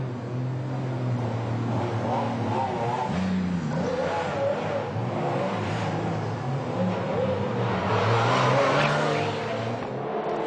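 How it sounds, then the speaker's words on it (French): Race cars of the Roscar series pulling away from the pre-grid for the formation lap at a circuit, a continuous dense engine roar with layered revving that swells toward the end, no speech over it. "Les voitures sont sur la pré-grille et vont s'élancer pour le tour de formation et le départ lancé de la première course."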